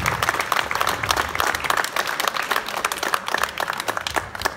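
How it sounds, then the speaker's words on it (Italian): Crowd at a Pro Loco 30th anniversary gathering in Sarconi, Italy, applauds in memory of a local man, steady dense clapping filling the whole stretch at moderate volume. "pertanto vorrei che ci fosse un applauso."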